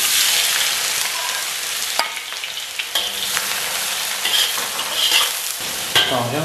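Scallion, ginger and garlic sizzle loudly in a hot wok, with bright continuous frying hiss broken by scraping stirs and brief clanks of the spatula, no voices.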